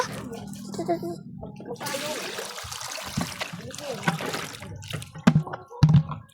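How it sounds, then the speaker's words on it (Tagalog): Rain begins falling outdoors over a small backyard fishpond, a broad hissing patter swelling in after a quieter start, with some water trickling and a few heavier splashes and thumps near the end. "Ito na, naulan na po. Nabagsak na yung ulan."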